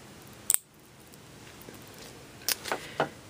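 A crochet chain is snipped with a makeshift cutting tool in place of scissors, giving one sharp close snip followed by a small cluster of quieter clicks and snips.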